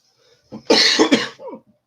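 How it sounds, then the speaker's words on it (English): A short, close cough bursts out, followed by a quick hiccup at the end. "Oh wow, a cough and a hiccup."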